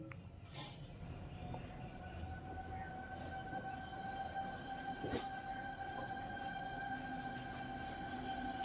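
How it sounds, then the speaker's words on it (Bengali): A train on a railway track hums and rumbles faintly from a distance, with a sustained tonal whine and low rolling noise building steadily, no voices heard. "দেখুন কত ফাস্ট আসবে ট্রেনটা, মোবাইলটাও পড়ে যাবে, এত ফাস্ট ট্রেনটা আসবে।"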